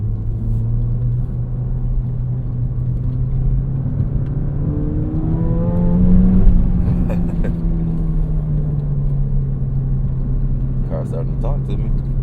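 A Ford Fiesta ST, front-wheel drive, pulls hard through traffic with a steady engine drone that climbs as it accelerates, a clear rev rise in the middle, road rumble throughout and a few light clicks near the end.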